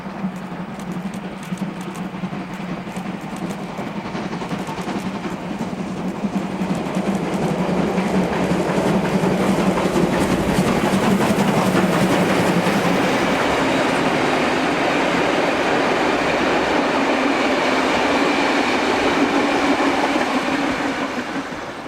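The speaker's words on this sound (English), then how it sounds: "A2986 leading a set of E-type carriages from Southern Cross to Seymour" Steam locomotive A2986 hauls a set of E-type passenger carriages on a charter from Southern Cross to Seymour, passing with a rising rumble and a rhythmic clatter of wheels over rail joints that builds, holds loud, then fades.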